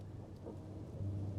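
Thunderstorm in the video game Life is Strange: Double Exposure, a low continuous rumble of thunder beneath steady rain, heard alone with no voices.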